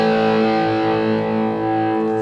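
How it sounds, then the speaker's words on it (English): An electric guitar power chord rings out with heavy distortion, one sustained, loud, thick chord that holds steady throughout. "listen when I play a power chord"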